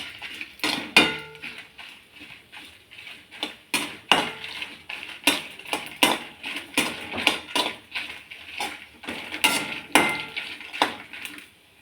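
Garlic, tamarind and dried chillies dry-roasted in a pan for South Indian sesame powder, with a close, steady run of scraping, clattering strokes of a utensil against the pan.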